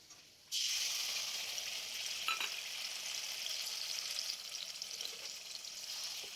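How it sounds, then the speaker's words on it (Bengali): A black cumin paste fries in a small amount of oil, opening with a sudden loud sizzle that then settles into a steady, even hiss lasting several seconds, close by with no talking. "সামান্য একটু তেল দিয়ে আমি এটাকে হালকা একটুখানি ভেজে নেব"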